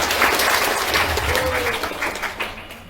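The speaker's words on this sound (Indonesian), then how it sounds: "Tepuk tangan untuk kita semua." Audience applause in a hall at a university orientation event in Palembang, a broad steady clapping wash that stays loud throughout and tapers slightly toward the end.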